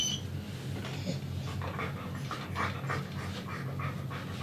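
A dog pants rapidly and steadily during grooming, close and moderately loud, a rhythmic breathy huffing over a low background hum.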